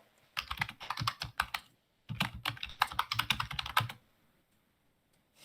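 Fingers tap on a computer keyboard in two quick bursts of rapid, uneven clicks, close and clear, with a short pause between them and silence at the end.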